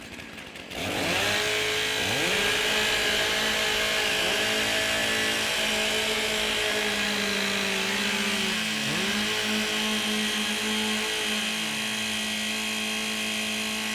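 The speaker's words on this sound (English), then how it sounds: "Warm up your saws." Chainsaws warming up at a STIHL TIMBERSPORTS pro championship in Australia, a loud close roar that starts abruptly and holds, engines revving and wavering in pitch with several saws overlapping, no speech.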